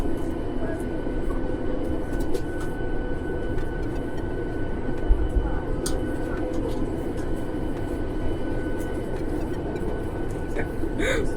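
An airplane cabin in flight carries a steady low engine and air roar, constant and even, with faint clicks and rustles and a voice murmuring under the drone.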